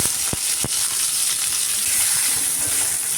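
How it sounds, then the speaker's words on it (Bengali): Chopped onions hit hot oil in a wok with a sharp crackle, then settle into a dense, steady sizzle, loud and close, with no one talking. "এরপরে আমি এখানে অ্যাড করব কুচানো পেঁয়াজ।"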